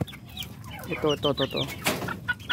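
A Roundhead gamefowl chicken clucks in quick, close bursts, with a run of short throaty notes and a rising squawk, while faint voices are heard in the background.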